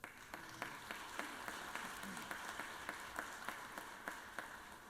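A state senate chamber gives a round of applause for the Multiple Sclerosis Society, heard as faint, sparse, evenly spaced claps from a small number of people in a quiet room.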